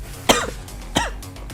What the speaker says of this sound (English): you're just gonna have to listen to me cough